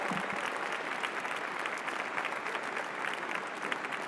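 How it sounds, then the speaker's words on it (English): A crowd at the nOxyCup 2024 freediving competition applauds the freediver Jofi, giving steady, continuous clapping from many hands that sounds distant and fairly faint throughout. "So we can hear a huge round of applause for Jofi"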